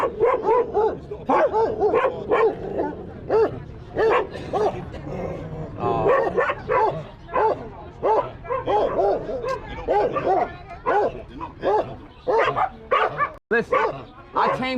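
A dog barks repeatedly in loud, close bursts with some yips and whimpers, mixed with excited human voices talking over it throughout.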